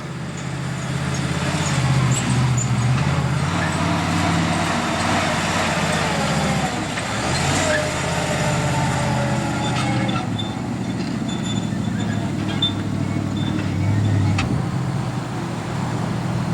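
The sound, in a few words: monster truck Grandma driving around a course over hills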